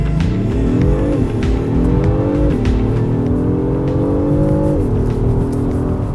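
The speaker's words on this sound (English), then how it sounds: "let's throw this into S on the shifter here and launch this thing" Engine of a 2026 Acura MDX Type S revving hard through a launch, rising in pitch with brief dips at each upshift, loud and close with no talk.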